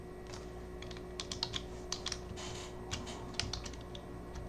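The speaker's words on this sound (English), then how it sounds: "I'm going to type in" Keys clicking on a computer keyboard during spreadsheet data entry, light irregular keystrokes in short bursts over a steady low background hum, close and fairly quiet with no talking.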